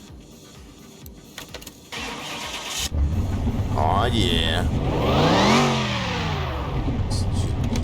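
Virtual car engine in Car Mechanic Simulator 2021 cranks, catches and fires up, then revs hard with rising and falling pitch; a person speaks briefly over it.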